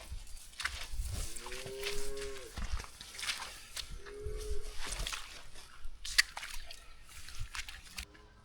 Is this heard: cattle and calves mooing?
yes